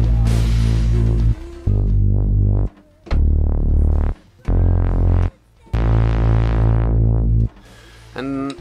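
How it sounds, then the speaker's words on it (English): Bass part on a live electronic setup: deep, loud synth bass notes played in a stop-start pattern of six sustained tones separated by short gaps, rich and buzzy with a filtered top, no voices. "play the bass here, and it sounds like this."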